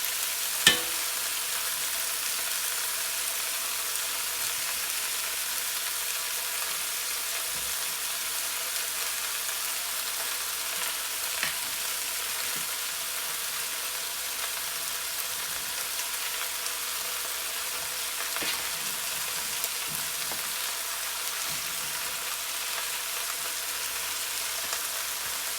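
Onions fry for braised lamb shanks, giving a steady, moderately loud sizzle that runs unbroken, with a few faint clicks and scrapes along the way.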